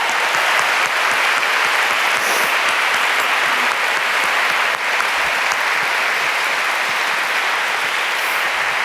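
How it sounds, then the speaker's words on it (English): Loud, dense applause from a large audience for a speaker, a steady unbroken roar of clapping that holds at full strength for nearly nine seconds with no talking. "can we give you an enormous round of applause?"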